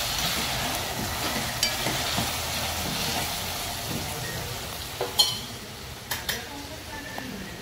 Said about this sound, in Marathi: पेस्ट पूर्ण व्यवस्थित भाजून झाली का लगेच त्याच्यामध्ये मसाला टाकून घ्यायचे सर्व.